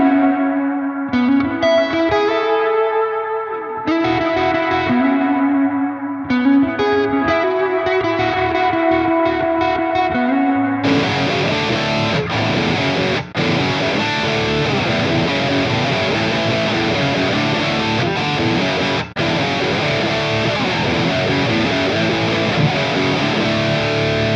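Distorted electric guitar plays a riff, opening with choppy, muted chord stabs before crashing into big, sustained stacked power chords, a loud, dense wall of sound with no voices.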